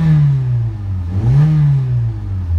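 A 2008 Honda Civic engine idles loudly nearby, then revs up and settles back down, its pitch rising and falling once, with no knocks or ticks.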